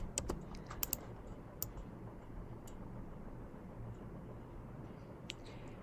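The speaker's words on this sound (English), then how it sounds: "I'm going to click on T on my keyboard and I'm going to type quick links" Keystrokes on a computer keyboard during design work in Figma, a few sharp clicks near the start and scattered taps later over a steady low background hum, no talking.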